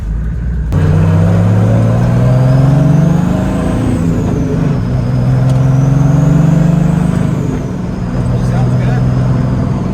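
A turbodiesel-swapped Datsun 240Z drives along with a loud, steady engine drone that swells and eases as it pulls, heard from inside the car with the windows down.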